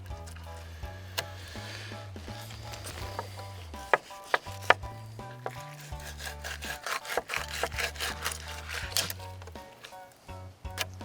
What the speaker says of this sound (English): Just take your knife, roll it right down the back side of that rib cage